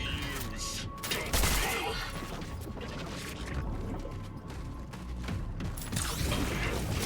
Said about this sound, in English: Ah, reload.